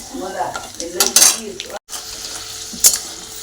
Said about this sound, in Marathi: हे बघा शेंगदाणे तळण्यासाठी टाकलेले आहेत